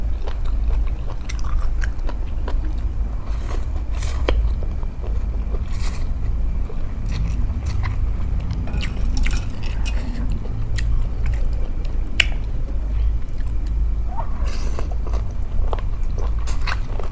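Crunchy wakame seaweed, eaten with spicy suki dipping sauce, is chewed close to the microphone, with repeated crisp bites and wet crunching over a steady low background hum.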